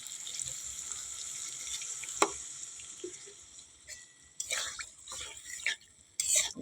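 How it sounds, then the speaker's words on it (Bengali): Water added to a frying pan of fish and potatoes in oil, a faint low sizzle that flares into bursts of hissing and bubbling toward the end, no talking. "এই সময় আমি একটু জল দিয়ে দেবো বন্ধুরা"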